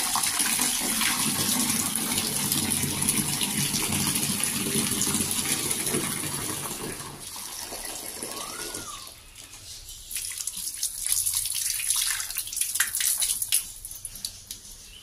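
Water gushing steadily from a tap to soak bedsheets and pillowcases, a loud continuous rushing that thins and drops somewhat midway before surging again, no talk over it.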